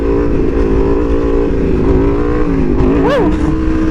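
An Aprilia Tuono V4R motorcycle engine roars loud and close under hard acceleration, a dense steady growl that briefly spikes and dips in pitch near the end as the throttle shifts.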